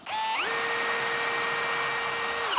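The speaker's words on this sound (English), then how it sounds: "I'm going to start small with my drill bit" A power drill with a small bit bores a starter hole into a door panel backed by clamped lumber, a steady high-pitched whine rising briefly at the start, then holding close and loud on its own.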